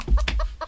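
Chicken clucking in short bursts, several quick calls near and fairly loud over a low rumble, with no talking.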